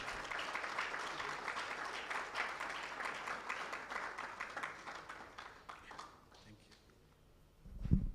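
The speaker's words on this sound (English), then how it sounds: "Another round of applause." Steady applause from a crowd at a Ghana population report launch event, dense and continuous, gradually thinning toward the end before a brief louder thump.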